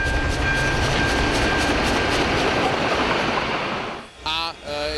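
A historic train rolls past on rails arriving at Žamberk, Czech Republic, with a steady, loud broadband rumble for several seconds, fading slightly near the end, where brief voices speak.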